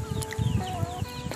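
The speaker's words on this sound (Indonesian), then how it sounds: "Eh, ayam." A chicken clucks nearby in a few short, irregular bursts over a low background, heard briefly and fairly faintly with no clear speech.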